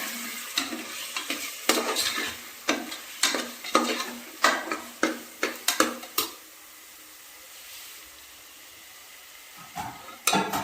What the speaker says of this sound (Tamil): நல்லா கலந்து விட்டுக்கணும்